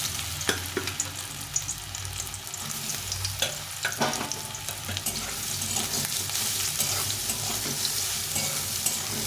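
Soybean chunks frying in white oil in a wok, a constant sizzle broken by a spatula stirring and knocking against the pan now and then, close and steady, no voices.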